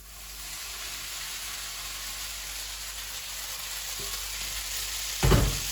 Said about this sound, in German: Die Nudeln kommen jetzt direkt in die Pfanne.